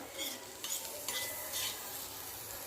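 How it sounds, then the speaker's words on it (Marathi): Onion roasts in a little oil in a pan over medium-low gas, with a faint, quiet sizzle. Several light scrapes and clinks from a spatula stirring against the pan cut through it. "आणि ह्याला छान भाजून घेऊया मिडियम टू लो गॅसवर"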